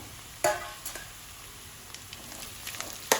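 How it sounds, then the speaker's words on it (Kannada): Chopped snake gourd goes into a pan of fried onions for a kootu, giving a soft steady sizzle with a few sharp clatters and stirring scrapes at the start and end. "ಈರುಳ್ಳಿ ಫ್ರೈ ಆಯಿತು ಈಗ ಹೆಚ್ಚಿಟ್ಕೊಂಡಿರುವಂತಹ ಪಡವಲಕಾಯಿಯನ್ನು ಇದಕ್ಕೆ ಸೇರಿಸ್ಕೊಳ್ತಾ ಇದ್ದೇನೆ"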